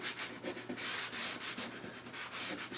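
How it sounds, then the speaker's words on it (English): 180-grit sandpaper is rubbed across a copper beech wood tray in quick, rhythmic back-and-forth strokes, making a close, steady scratchy hiss with no voices. "Got some 180 sandpaper, and it's going to go across and hopefully"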